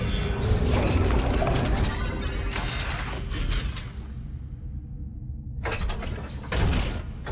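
A mechanical claw in the Nine Sols video game deploys and pivots during a system test, giving off loud clanking, ratcheting machinery and creaking metal that fades into a brief quiet before another burst of grinding mechanism.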